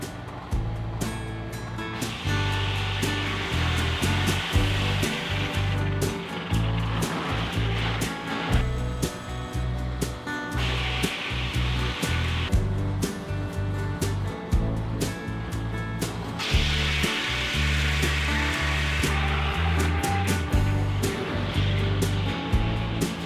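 A Ray Merrill sawmill running loud and steady as it cuts boards from a log, its motor droning with rising and falling pitch and breaks in the cutting load.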